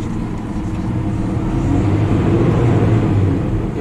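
A Valtra N175 tractor drives steadily while pulling a small bale trailer, its engine giving a continuous loud low drone with rattling from the trailer throughout.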